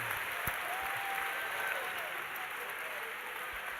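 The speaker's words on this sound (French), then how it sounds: "Clap for God. Clap for God." A congregation claps for God during a church prosperity teaching session: dense, steady applause runs through the whole moment, with a faint voice underneath.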